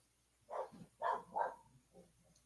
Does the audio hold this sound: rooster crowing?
no